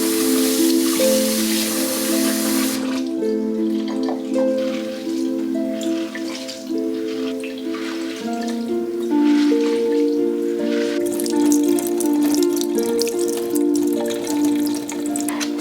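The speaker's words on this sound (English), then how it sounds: "we are going to wash this with cold running water" Five cups of rice are washed under cold running tap water, with a steady hiss of flowing water, wet squishing and dripping throughout, and a faint tonal hum beneath.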